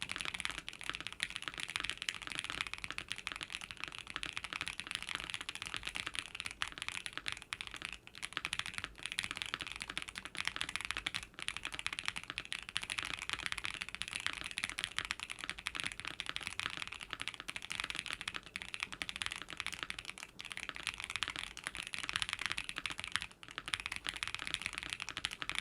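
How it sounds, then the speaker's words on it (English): Continuous typing on an ASUS ROG Azoth Extreme mechanical keyboard, a steady stream of crisp key clacks at close range with no pauses or talk. "let's do a quick sound test because I do want to feel the typing experience of it"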